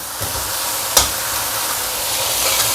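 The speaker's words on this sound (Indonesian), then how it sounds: "Tambahin bawang merah goreng. Aduk-aduk." Fried shallots being stirred in a frying pan, a steady close sizzle with a sharp scrape of the utensil near the start and soft stirring scrapes throughout.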